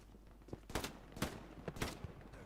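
Gunfire in the video game Hell Let Loose during a competitive match on the Carentan map, heard as several faint, scattered distant shots in irregular bursts.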